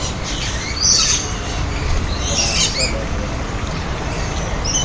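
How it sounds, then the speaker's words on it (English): A bird squawks and chirps in a game, with a few short shrill bursts, the loudest near the start and another around midway, over a steady low background rumble. "This bird wants something from me,"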